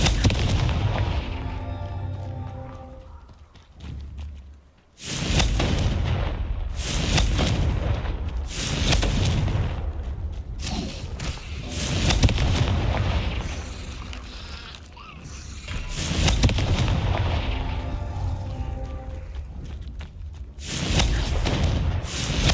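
Confringo blasting spell explosions in Hogwarts Legacy, several loud booming blasts with deep rumbling tails, each separated by brief quieter gaps.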